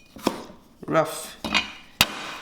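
A kitchen knife chops fresh ginger roughly on a board with four distinct, unevenly spaced cuts, some ringing sharply and others duller, close up with no talking.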